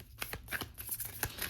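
Oracle cards are shuffled by hand in quick bursts of papery riffling and slapping, close and fairly loud with no talking over them.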